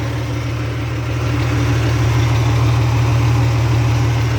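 An old car fitted with a Mitsubishi engine runs close by with a loud exhaust, a steady, deep droning hum that swells slightly in level partway through, with no talk.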